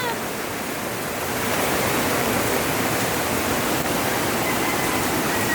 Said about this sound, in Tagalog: Ito na yung baha, oh.